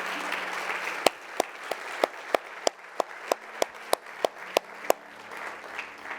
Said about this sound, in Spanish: Un aplauso bien fuerte a nuestro Dios